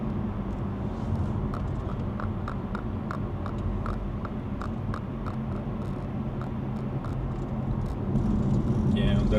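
Steady road rumble and tyre noise from a car travelling on a German Autobahn near Gross Gerau, a continuous cabin drone with faint ticking, growing slightly louder near the end.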